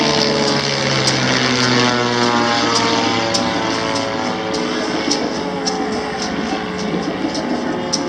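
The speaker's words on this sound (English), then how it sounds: "Helicopters on them." LAPD police helicopter flying over the Venice Beach boardwalk at night, a steady loud rotor and engine drone with a faint pulsing beat, holding constant throughout.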